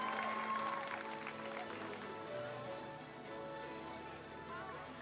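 Applause and cheering from a crowd at the Invictus Games 2023 cycling race as riders cross the finish line on a lap, a moderate continuous clapping wash that fades slightly, with a voice audible over it.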